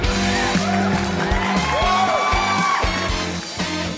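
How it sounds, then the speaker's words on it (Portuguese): A studio audience on a running podcast show cheers with whoops and shouts over a rhythmic musical beat, loud and continuous for several seconds. "Palmas!"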